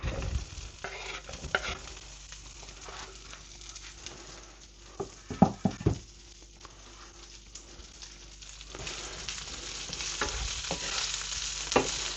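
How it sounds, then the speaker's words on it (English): Fatty bacon frying in a pan, a continuous close crackling sizzle with a few sharp knocks and clatters midway, growing denser and louder toward the end. "first of all I'm gonna put the fat bacon"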